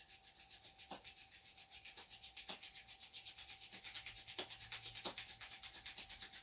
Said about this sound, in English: let's rub the hands together.